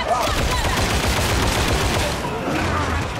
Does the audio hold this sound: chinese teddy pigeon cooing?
no